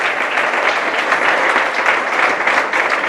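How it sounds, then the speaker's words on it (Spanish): A church congregation claps for the King of Kings at the close of a prayer, a loud, even wash of many hands that holds steady from start to finish without talk. "Abra sus ojos y dele palmas al Rey de Reyes"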